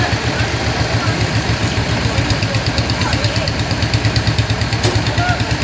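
A new tractor's engine runs hard during a pulling trial, giving a steady, rhythmic low diesel chug close by with no clear break in it.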